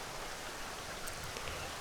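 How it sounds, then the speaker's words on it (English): Steady rain falls outside in a soft, continuous hiss, fairly quiet and even throughout with no voices over it. "It's raining outside."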